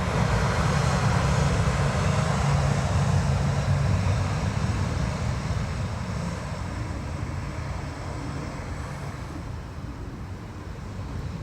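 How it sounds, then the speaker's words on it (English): A Ryanair airliner departing Dublin Airport for London Gatwick on a wet, windy day gives a loud, broad jet roar that slowly fades as it climbs away. "It's Ryanair off to London Gatwick."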